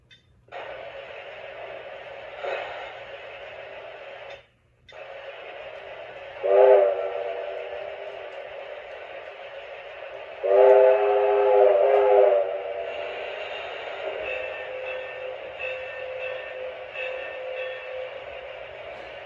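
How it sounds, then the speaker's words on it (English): A K-Line Pennsylvania A5 0-4-0 switcher toy locomotive's electronic whistle blows twice in longer sustained blasts over a steady mechanical hum, with a softer tonal bell chime between them. "it does have a rudimentary sound system. So it has the bell, it has the whistle"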